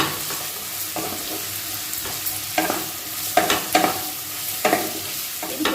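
Chopped onions lightly frying in a pan for egg chicken chow mein, a continuous close sizzle broken by repeated stirring scrapes and clatter that come in uneven bursts.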